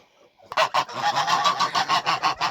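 Domestic geese honk in a farmyard, loud close calls repeating in a quick, regular rhythm after a short quiet start, with no talk.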